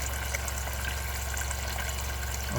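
Water flows steadily from a direct-flow RODI filter into a measuring container, a constant close hiss and trickle over a low hum, with no pauses or talk.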